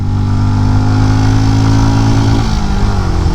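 Benelli Imperiale 400 single-cylinder motorcycle accelerating hard through the gears, its engine note loud and close, with the pitch climbing and then dropping at a shift near the end.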